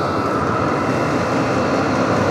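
A Vevor diesel heater burning at full ignition gives a steady, close, loud roaring rumble that holds constant throughout, with no talk over it.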